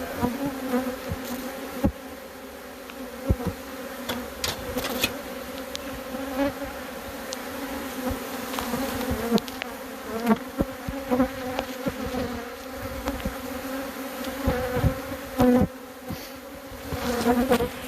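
Bees hum densely inside a wild hive, a continuous close buzzing with individual insects droning past and occasional louder passes, no voices.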